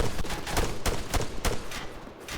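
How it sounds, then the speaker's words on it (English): Gunfire in a first-person shooter video game, a string of loud, sharp shots fired in rapid irregular bursts, close and continuous across the moment. "I know I'm standing and firing"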